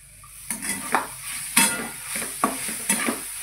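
Grated coconut and jaggery filling for steamed modak being stirred and sautéed in a pan: a steady soft sizzle broken by several sharp scraping strokes of the spoon about every half second to second, fairly close, with no talking.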